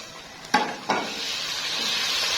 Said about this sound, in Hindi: तो हमारे ये प्याज और लहसुन अदरक ये देखिए फ्राई हो चुके हैं, लाइट से ब्राउन हो चुके हैं।